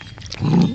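A small Yorkshire terrier lets out a short, low growl, close and fairly loud, lasting under a second.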